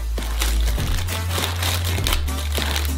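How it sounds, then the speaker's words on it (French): A packet of sugar is torn open and handled while cooking in a home kitchen, giving crinkly paper rustling and crumpling that runs continuously and close, with a low steady hum underneath. "On ouvre le sucre."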